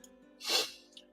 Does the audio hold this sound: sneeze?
yes